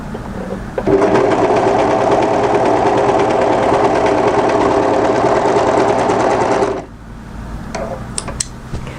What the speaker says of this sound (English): As you approach your overlocking, what we want to do is overlock just after those matching notches.